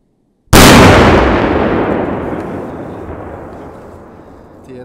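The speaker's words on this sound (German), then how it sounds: "Oldschool-Böller." A single loud old-school firecracker bang, sharp and close, followed by a long rolling echo that fades over several seconds.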